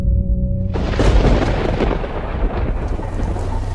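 A deep roll of thunder rumbles over steady heavy rain, the downpour continuing throughout after the initial boom.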